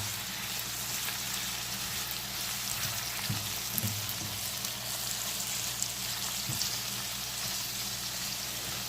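Golden squash slices fry in grease in a pan, giving a continuous close sizzle with a few soft clinks and stirring bumps, no voices.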